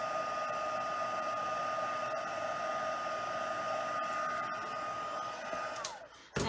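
Heat tool blowing hot air to melt white embossing powder on dark cardstock, a steady whirring fan drone that runs close and loud before winding down as it switches off.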